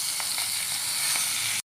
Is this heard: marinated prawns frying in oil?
yes